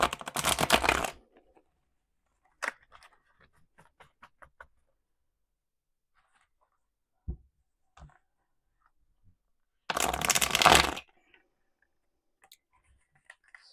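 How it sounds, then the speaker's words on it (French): A deck of tarot cards being shuffled by hand, two loud riffling bursts at the start and near the end with soft card taps and small handling sounds in between, close and otherwise quiet. "Et on y va tout de suite avec le tarot pour le domaine général. Alors, je vais les mélanger"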